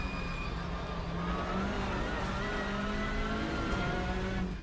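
Hyundai Elantra TCR race car engine in the Assetto Corsa sim at Okayama, a steady faint drone with a sustained engine tone rising slightly in pitch, continuous throughout before cutting off at the end.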